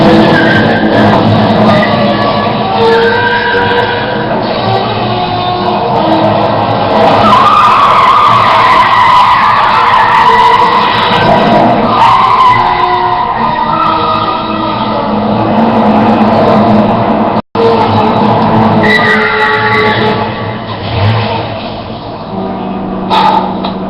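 A car skids and drives under steady engine noise and tire squeal, loud and continuous for the whole stretch, with a brief dropout near the end and no talk over it.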